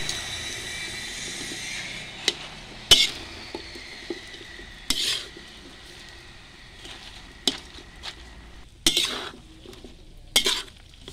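Pechay is stirred as it sautés in a pan, with no one talking. Utensil scrapes and clinks ring out sharply at irregular intervals over a faint sizzle.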